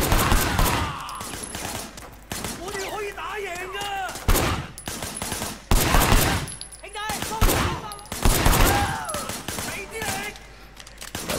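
Gunfire from a shootout in the open-world crime game Sleeping Dogs, with several sharp bursts of shots landing between stretches of game dialogue. Voices talk over and around the loud, clustered reports.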